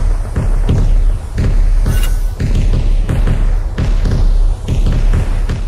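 A ball shot in a video game, struck and rolling toward a goal: a loud series of repeated thumps and thuds at a steady rhythm, close and alone, with no talk.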